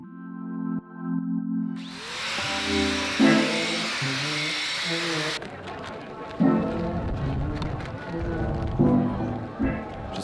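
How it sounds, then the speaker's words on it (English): A power drill whines and grinds as a bit bores holes into a log, rising and falling in pitch over several pushes, with music underneath. "Our angle grinder adapter paired with the specialized drill bit will speed up your project substantially."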